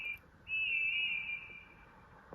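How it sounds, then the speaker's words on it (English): A bright, sustained steam tank engine whistle holds steady for nearly two seconds after a brief opening toot, fairly close, ending with a soft knock. "they heard a funny whistle"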